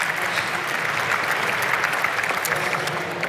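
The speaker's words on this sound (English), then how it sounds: "Give her a warm applause." An audience at a startup pitch session at Slush 2016 gives a warm round of applause: dense, sustained clapping from many hands, steady and even for the whole stretch.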